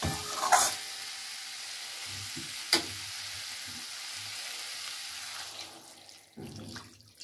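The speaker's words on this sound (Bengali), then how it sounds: "এবারে জল দিয়ে দেবো।" Spiced cauliflower curry frying in a pan as water is poured in, a soft steady sizzle with brief splashes and a sharper burst near the start, fading quieter toward the end.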